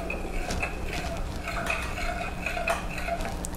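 A metal utensil stirs roasted ground organic coffee into melted coconut oil, clinking and scraping against the container in a steady, close-up rhythm.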